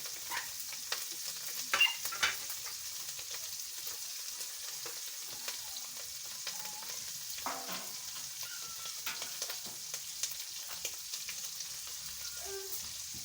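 Eggs with tomatoes and onions fry in a pan, a steady soft sizzle with occasional sharp crackles and stirring scrapes, close and continuous without speech.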